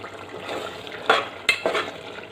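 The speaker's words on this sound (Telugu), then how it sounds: "ఈ గోంగూర తీసి దీనిలో వేసేద్దాం." Gongura (sorrel) leaves are tipped into a simmering curry and stirred in, making a few soft, brief clattering scrapes over a low, steady background sizzle.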